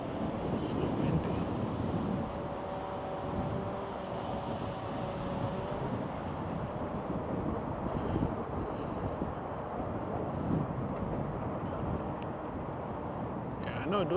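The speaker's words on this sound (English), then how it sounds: "So windy." Wind buffets a microphone outdoors in San Francisco, a steady low rumble running throughout, with some speech-like sound mixed into the blustery noise.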